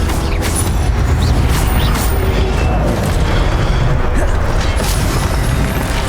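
A fire spell cast in the Hogwarts Legacy video game, a loud dense roar of booming, crackling bursts that keeps going for the whole stretch, with other combat noise layered in.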